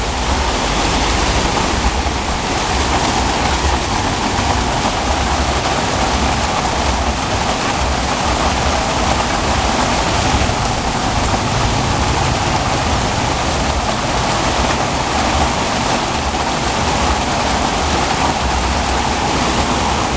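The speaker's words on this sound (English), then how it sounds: "It's pouring down, hammering it down." Heavy rain pours down steadily on Soi Buakhao street, a dense, loud, continuous hiss and patter with no letup and no voices.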